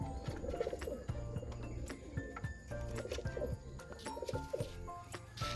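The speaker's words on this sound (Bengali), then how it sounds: "তার আগে আরও এক জোড়া পায়রা দেখাই" Pet pigeons, a golden male and a local female among them, cooing in repeated soft throaty rolls close by, mixed with faint chirps and light rustling.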